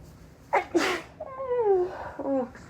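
A woman gives high-pitched, girlish sneezes: two quick close bursts, then a breathy, whimpering vocal trail as she recovers, with no talking.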